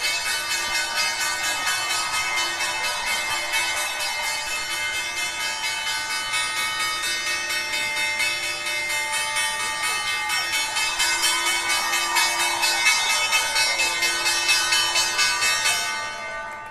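The New York Stock Exchange closing bell rings continuously for about sixteen seconds, a loud, sustained metallic ringing with steady overtones, with faint crowd noise beneath and a brief rise in activity toward the end.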